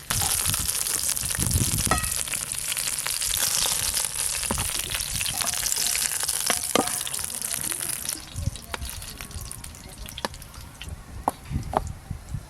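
Fish paturi, kalbaush fish wrapped in bottle gourd leaves, frying over a clay stove; a steady sizzle runs throughout, louder in the first part, with occasional clicks and light scraping.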